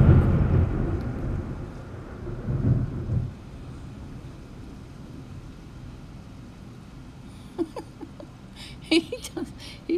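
Rumbling thunderstorm outdoors, with low rolling thunder swelling loudly at the start and again around three seconds, fading to a steady background rumble, followed by a few sharp nearby knocks or clatters near the end.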